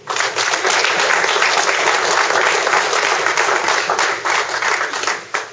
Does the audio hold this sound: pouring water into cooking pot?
no